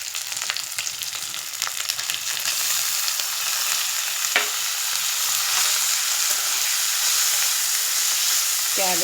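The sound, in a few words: stir-frying boiled cabbage with moong dal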